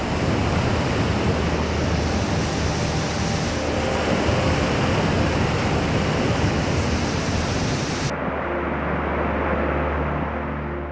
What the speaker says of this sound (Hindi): ये था सबसे पहला और सबसे शैलो वाटर स्ट्रीम